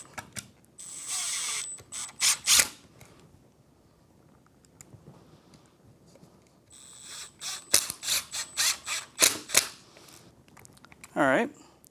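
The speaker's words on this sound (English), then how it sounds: "I'm going to swap over to my number 3 bit, my Phillips 3. Run these screws in." A Phillips No. 3 bit drives screws into the faceplate of a mortise door lock, giving bursts of rapid ratcheting clicks from a driver in short runs, the second run longer and choppier, close up with quiet gaps between.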